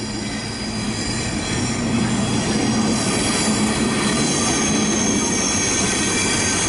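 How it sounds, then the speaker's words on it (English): An electric freight train rolls steadily through Manchester Piccadilly station, a continuous rumble with rail noise and faint wheel squeal, no voices. "Looks like we've got a freight train coming through."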